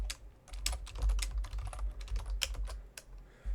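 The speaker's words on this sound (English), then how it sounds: "I'll type this again." Steady, rapid typing on a computer keyboard while working in Microsoft Excel Online, close-miked and clattery, with a low hum underneath.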